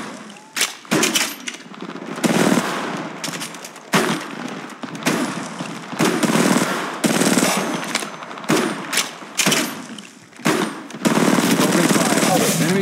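Automatic and rapid gunfire in the Apex Legends battle royale shooter: loud, dense bursts in repeated volleys with short gaps between them, close up, with game voice lines heard during the shooting.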